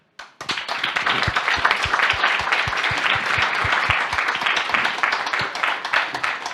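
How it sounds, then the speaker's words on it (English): Audience applause thanking the speakers after a human rights conversation with Ken Roth: dense, sustained clapping from a crowd that starts abruptly and continues steadily at full strength throughout. "I was going to ask for a round of applause to thank the speakers."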